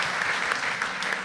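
A brief burst of steady applause from the audience at a company all-hands meeting, many hands clapping together, close and full, alone without talk.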